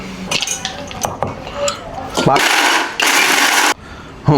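Kitchen mixer grinding pistachios, almonds and cashews into a paste for mutton marag, starting after some clinking of utensils, then running in two loud sustained whirring bursts with a short pause between them.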